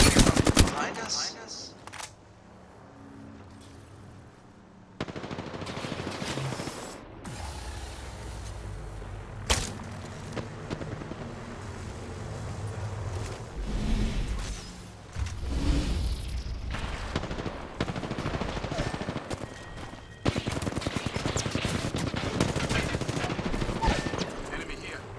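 Gunfire in the video game Apex Legends: rapid automatic bursts and single cracks come in waves through the whole stretch, some loud and close, others more distant, with players talking over them.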